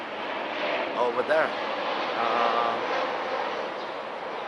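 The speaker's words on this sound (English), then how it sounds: "And I hear an airplane again." A FedEx cargo airplane passes over a Silicon Valley street as a steady, distant broadband engine roar, with a brief spoken remark partway through.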